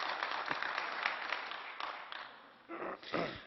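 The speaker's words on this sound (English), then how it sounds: "Well, lots of you are applauding" Sustained applause from many members in a European Parliament plenary hall, a dense, steady wash of clapping running throughout, with a voice speaking faintly underneath and a louder burst of claps near the end.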